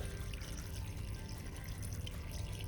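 Water poured into a cooking pot holding Malabar spinach with salt, a steady close splashing and trickling that runs without a break for the whole stretch, with no voices over it.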